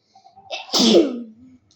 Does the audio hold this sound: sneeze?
yes